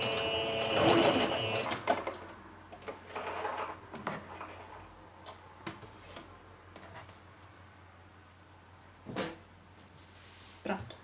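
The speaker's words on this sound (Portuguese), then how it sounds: "Vamos passar aqui essa costura, auxiliar aqui com as molas, ok? E vamos passar essa costura." A domestic sewing machine runs a seam on a fabric wallet, its needle rattling in short bursts between pauses, with soft handling clicks and fabric rustle nearby and someone speaking quietly at times.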